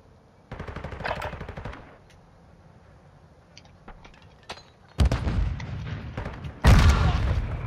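Bursts of automatic gunfire in a video game shootout, then a lull with scattered shots before a heavy frag grenade blast and another loud explosive burst near the end.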